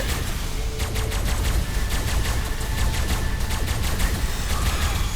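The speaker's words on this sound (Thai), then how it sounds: "ียงยิงเหมือนสตาร์วอลนะ แอบแบบแอบคล้ายสตาร์วอลนิดนึง" Rapid volleys of sci-fi gunfire resembling Star Wars blasters in Ark Survival Evolved, a steady stream of repeated shots running throughout at moderate distance, with no talking.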